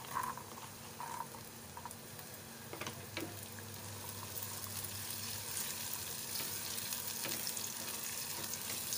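Green chilies and peas fry in a pan with a steady, soft sizzle and faint crackle that carries on throughout, with no talking.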